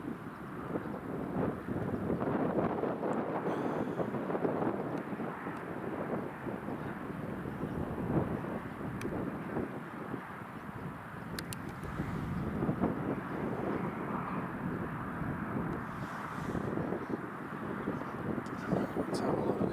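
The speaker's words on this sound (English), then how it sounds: "There's the Ryanair heading back to Dublin, just taxiing out as well." A Ryanair airliner bound for Dublin taxis out at Newcastle International Airport, a steady distant jet engine rumble with wind noise across the microphone, continuous throughout.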